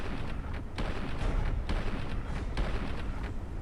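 A large explosive rifle projectile detonates in Fallout 4, producing dense, continuous booming blasts that keep rumbling loudly with no gaps for the whole stretch.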